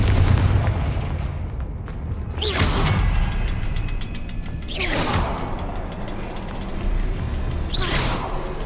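Confringo blasting spells cast in Hogwarts Legacy, three separate whooshing bursts ending in booming impacts, spaced a few seconds apart over a steady ambient background.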